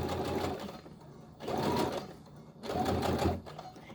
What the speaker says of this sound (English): so I'm going to back stitch